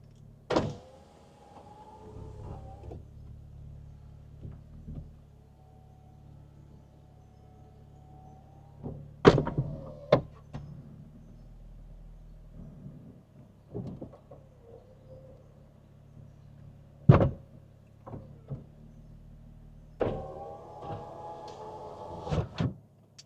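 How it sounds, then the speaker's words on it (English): Electric folding roof of a BMW Z4 convertible closing, a steady motor whir with several sharp clunks and latch clicks as the panels lock into place, heard up close inside the car. "Let's put the roof up then."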